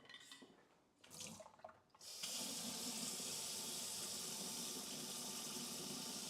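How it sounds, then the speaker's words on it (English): A water tap runs steadily into a container, a loud continuous rushing stream that starts after a couple of seconds of quieter handling noises and then holds unbroken to the end. "I'm going to fill up some water"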